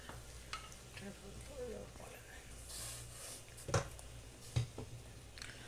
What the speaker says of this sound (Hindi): अब मैं डालती हूँ कस्टर्ड।